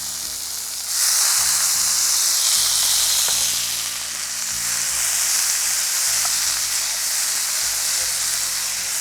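Spinach greens sautéing in a hot pan on a Tamil cooking show: a loud, steady sizzle and hiss that continues for the whole stretch, with faint stirring under it.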